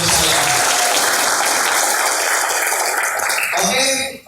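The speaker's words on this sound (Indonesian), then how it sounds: "Beri tepuk tangan untuk saya." Loud, dense audience applause fills a hotel seminar hall, sustained evenly for about three and a half seconds before tapering, with a voice emerging near the end.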